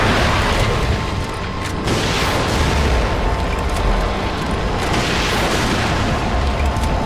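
Rockets in the horror game The Evil Within blast in heavy, booming explosions, loud and rumbling, with repeated surges of blast noise over several seconds.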